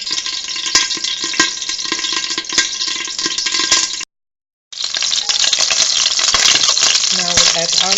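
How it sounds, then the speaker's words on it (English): Mustard seeds pop and crackle in a half-lidded pot, making dense, sharp, irregular ticks over a frying hiss, broken by a short silent gap before the popping resumes. "we'll wait until the mustard seeds start popping"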